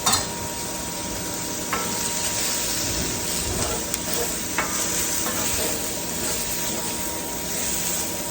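Garlic cloves sizzling in a pan, a continuous dense hiss of frying with a few faint ticks and scrapes, close and steady without speech.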